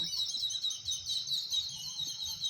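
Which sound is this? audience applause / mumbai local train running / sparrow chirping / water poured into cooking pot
sparrow chirping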